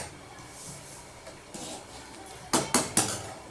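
A spoon scrapes and clinks against a cooking pot as semolina is stirred into boiling water, with soft stirring sounds followed by three sharper metallic knocks near the end, close by.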